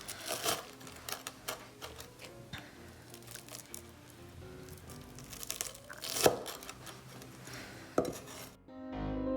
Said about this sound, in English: Now I'm gonna cut each of these twice.